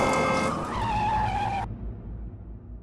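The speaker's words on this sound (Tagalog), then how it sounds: "Tumilapon ang kasalubong niyang sasakyan matapos itong dumaplis sa kanyang minamaneho." Car skidding and colliding with an oncoming vehicle on a road: a loud tire squeal with rising engine noise cuts off abruptly after about a second and a half, leaving a low rumbling aftermath, with no talk.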